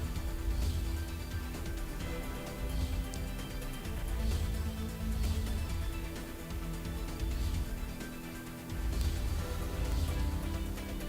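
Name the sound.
rain falling in Chandigarh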